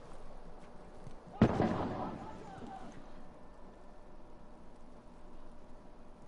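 A single sharp, loud rifle crack from an enemy sniper in a PS4 video game, followed by a brief decaying echo over a steady low background murmur.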